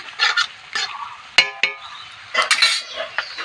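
Softened cooked tomatoes are mashed and stirred with a metal dal masher in a pot, producing scraping, squelching strokes broken by a few sharp metallic clinks, close and fairly loud.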